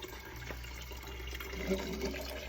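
Pressed Syrah grape juice trickles and drips from a ratcheted wine press into a container below, a soft, continuous liquid patter with faint clicks, quiet and without speech.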